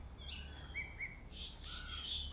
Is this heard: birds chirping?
yes